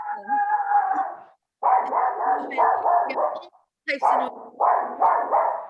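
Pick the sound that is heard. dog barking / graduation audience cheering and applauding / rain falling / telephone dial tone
dog barking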